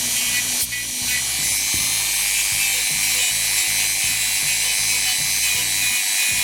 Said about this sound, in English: Also keeps the tool in the Dremel away from the gloves and doesn't catch them.